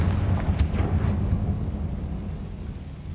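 A spell blast from the Confringo fire curse in Hogwarts Legacy bursts out as one booming explosion with a sharp crack at the start, then rumbles away into a fading low roar.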